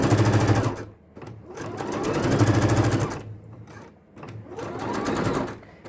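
A sewing machine stitching a decorative border onto a scarf or dupatta runs close and steady in long buzzing bursts, pausing briefly twice before starting up again.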